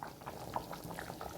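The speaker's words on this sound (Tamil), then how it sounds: "தேங்காய் வாசனை போகிற அளவுக்கு கொதிக்கட்டும்." Tamil kuzhambu with greens and coconut bubbling in a pot, giving a close, soft, continuous burble with small irregular pops throughout.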